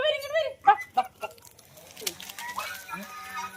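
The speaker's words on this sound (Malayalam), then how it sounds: "കുറെ കോഴികൾ അപ്പുറത്തോട്ടോ, അതൊക്കെ അപ്പുറത്തുണ്ട്." Hens cluck a short distance away, a few soft bursts of clucking mixed with quiet human talk in a rural yard.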